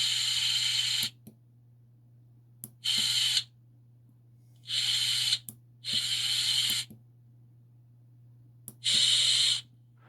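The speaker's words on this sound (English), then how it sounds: "now you're going to get to hear my electric drill being turned on or off" An electric drill whirs in five separate bursts of roughly half a second to a second each, starting and stopping abruptly with quiet gaps between them. A steady low hum sits underneath.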